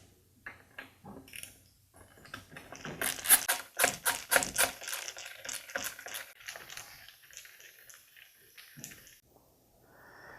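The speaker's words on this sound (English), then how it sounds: "Now we'll remove the 4 screws that hold the housing in place" Housing screws come out of a Ryobi string trimmer during a starter repair. Bursts of quick ratcheting clicks rise and fall close by, then thin out to a few scattered clicks.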